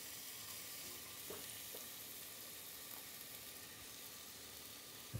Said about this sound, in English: and you hear a nice sizzle.